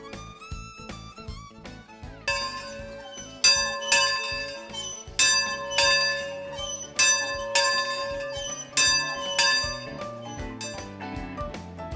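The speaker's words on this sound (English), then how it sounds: "guests eagerly await the sounding of the dinner bell, perched high atop the 3-story ranch house" Dinner bell perched atop a three-story ranch house rings out in repeated bright metallic clangs, struck in uneven bursts with long ringing overtones, loud and clear with no talk.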